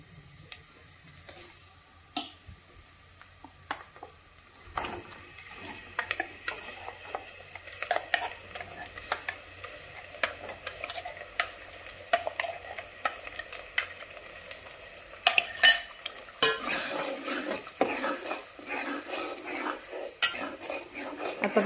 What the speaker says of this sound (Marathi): आपण बारीक केलेला मसाला टाकलाय कांदा टोमॅटो आलं लसूण खोबरं तर आता चांगला भाजून घ्यायचा मसाला